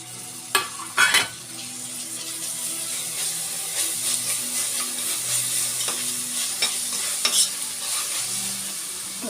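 Vegetables with ginger garlic paste being stirred in a hot pan for veg fried rice, with a steady sizzle and a few sharp scrapes and clinks of the spoon near the start, close up.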